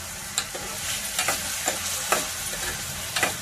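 Brinjal pieces fry in a pan for a taro and brinjal pulusu, with a steady sizzle broken by repeated sharp scrapes of a stirring spoon against the pan, heard alone without speech.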